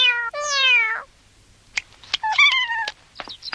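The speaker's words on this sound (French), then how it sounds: "il y a un chat qui n'arrête pas de me regarder méchamment" A cat meows in an animated cartoon, one long wailing meow first, then short clicks and a second shorter meow, close and clear with no talk.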